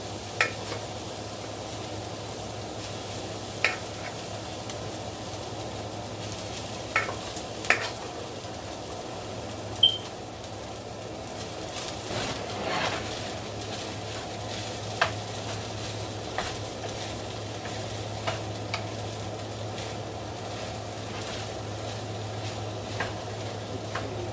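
Homemade fried rice frying in a pan, a steady low sizzle with scattered sharp scraping and stirring clicks from a utensil at irregular intervals, close and moderately quiet, with no one talking.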